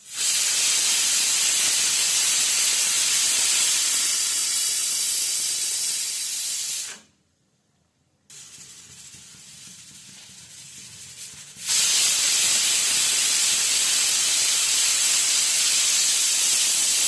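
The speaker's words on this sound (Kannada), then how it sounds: "Cooker hockey 3 whistle ಕೂಗಿಸ್ಕೋಬೇಕು." Pressure cooker venting steam while cooking vegetable palav, a loud sustained hiss that stops abruptly, goes quiet for a moment, then bursts out again at full strength.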